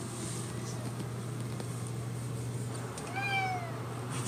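A cat meows once near the end, a clear rising-then-falling call over a steady low hum and quiet room noise.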